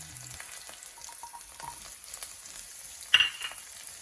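Finely chopped onion frying with garlic in a pan, giving a quiet steady sizzle with faint stirring taps and one brief louder clink near the end.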